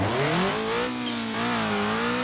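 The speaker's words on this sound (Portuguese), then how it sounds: "O barulho desse carro ficou cabuloso demais, mano." A turbocharged Volkswagen Passat engine roars in the BeamNG.drive racing game, a loud sustained drone whose pitch rises and dips slightly as it revs, with no voices.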